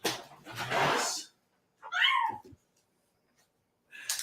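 A kitten gives a clear, close, rising meow between bursts of breathy noise, with another brief cry starting at the end.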